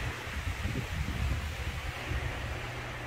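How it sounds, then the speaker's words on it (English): Strong gusty wind on a day with hurricane-force winds forecast, a faint, steady broadband rush with low buffeting on the microphone. "They've been calling for hurricane force winds today."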